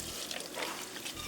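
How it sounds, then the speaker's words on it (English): Brown rice boiled for about half an hour poured with its water into a Dollar Tree colander, a brief close splashing gush of liquid lasting just over a second. "Now I'm going to take my rice, pour it over into my Dollar Tree colander"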